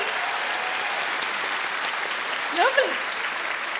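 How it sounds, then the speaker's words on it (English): An audience applauds steadily, a dense wash of clapping that continues throughout, with a voice speaking briefly over it near the end. "Round of applause for the lady with the new baby."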